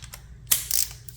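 Small bolts on a KTM Super Duke R motorcycle are threaded in by hand, giving a few quick, close metallic clicks and ticks in a short burst.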